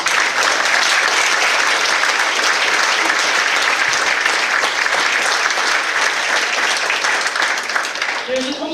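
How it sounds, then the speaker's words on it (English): A banquet crowd at a 2014 college athletics Hall of Honor dinner gives a sustained, loud, even round of applause lasting several seconds, fading slightly at the end as a voice begins. "I think it would be appropriate for us to give one last round of applause to all of the inductees."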